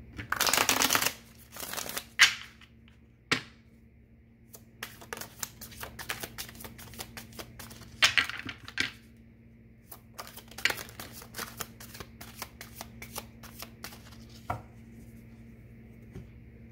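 A deck of tarot cards is shuffled close up: a loud riffle opens, then bursts of rapid card flicks and slides come and go, separated by quiet pauses, with no talking.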